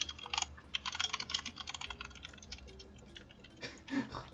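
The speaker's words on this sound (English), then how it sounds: "Who's the one typing?" Rapid, loud computer keyboard typing in clustered bursts of clicks, heard close with no talking over it.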